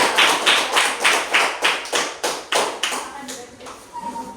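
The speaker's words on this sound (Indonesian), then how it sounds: "kita beri tepuk tangan dulu untuk kelompok 2" A classroom group claps together for a student group's presentation, about nine evenly spaced, rhythmic claps in unison that fade out into scattered, softer taps.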